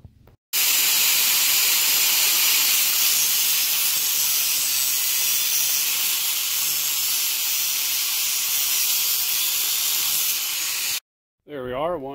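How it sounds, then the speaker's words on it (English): An input shaft from a Jeep has its tapered end ground off to shorten it for a T5 transmission install. A loud, steady, hissing grind runs for about ten seconds, then cuts off, and a brief voice follows. "So we'll go ahead and trim almost half of that shaft off, or the taper part of the shaft"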